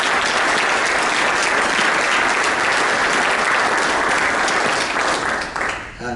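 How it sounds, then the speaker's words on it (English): An audience applauds Korea and Vietnam veterans with loud, dense, sustained clapping that fills the room and tapers slightly at the very end. "How about a round of applause for our warriors?"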